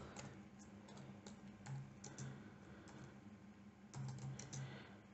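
Computer keyboard keys tapped while a graph title is entered in graphing software, a quick run of light clicks in short bursts with small pauses, close and quiet against a faint hum.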